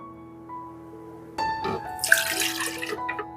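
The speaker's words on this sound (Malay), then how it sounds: "Masukkan air pandan dulu. Air pandan" Pandan water, one cup, poured into a blender for a pandan cake batter, a steady splashing gush that starts abruptly after a quiet stretch and runs close and loud to the end.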